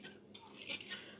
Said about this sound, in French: On remue, pas trop, en attendant qu'ils refroidissent.